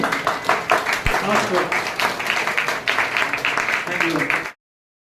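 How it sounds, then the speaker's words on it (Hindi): Audience at the inauguration of a Herbalife nutrition club in Thawe applauding to welcome a guest: dense, steady clapping from many hands filling the room, with voices mixed in, stopping abruptly near the end. "एक जोरदार तालियों के साथ खड़े होकर इनका स्वागत कर दीजिए"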